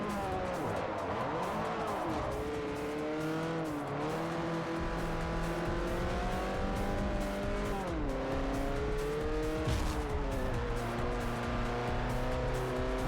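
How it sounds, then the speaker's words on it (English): Car tires squealing and skidding in Forza Motorsport 4, long wavering screeches over a steady loud race-car engine drone, sustained throughout with pitch sweeps as the car slides. "Sent me skidding."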